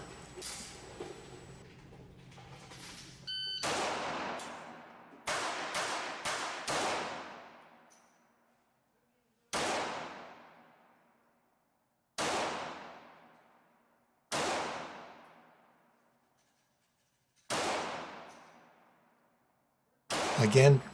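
A Smith & Wesson Model 39-2 9mm semi-automatic pistol is fired at a target 35 feet away: a rapid cluster of loud, sharp reports early on, then five single shots spaced a few seconds apart, each ringing off into a fading echo.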